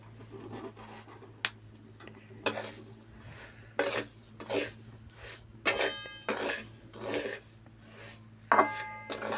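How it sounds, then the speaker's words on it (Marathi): Coarse semolina roasts in plenty of oil in a pan, with a spoon scraping and clinking against the metal in irregular close strokes over a quiet background, and no talk. "तर आता हा रवा भाजून घ्यायचा आहे।"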